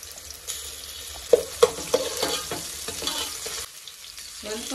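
Onion and ginger garlic paste fry in a pan with a steady sizzle, broken by several loud scraping clinks of a spoon stirring, then a brief lull before the frying resumes.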